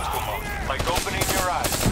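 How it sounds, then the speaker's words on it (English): Rapid bursts of XR2 auto burst rifle gunfire from the Black Ops 3 campaign crackle throughout, dense and close, mixed with busy game sound and a possible faint voice underneath. "What is this gun? The XR2 auto burst."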